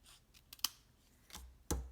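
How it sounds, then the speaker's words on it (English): Scissors snip paper during a papercraft stamping project, the paper sticking to the blades from tear-and-tape adhesive; a few faint, close clicks and crisp cuts, the last one louder, with no talking. "I'm going to cut this piece off. It's sticking to my scissors because of the tear-in tape."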